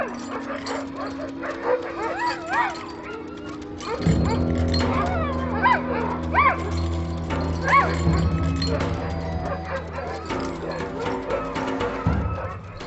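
Several sled dogs bark, yip and whimper close by in an Arctic summer setting where a polar bear approaches, their cries rising and overlapping steadily over a low rumble throughout.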